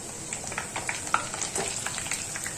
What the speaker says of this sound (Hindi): अभी फिलहाल मैं ये फ्राई करके आप लोगों को दिखा रही थी